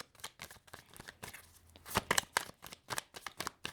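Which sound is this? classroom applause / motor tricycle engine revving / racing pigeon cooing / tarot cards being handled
tarot cards being handled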